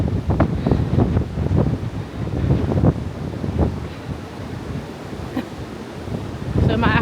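Coastal waves bang against a sea wall, giving a loud, rough, continuous wash with irregular surges, heavily mixed with wind buffeting the microphone.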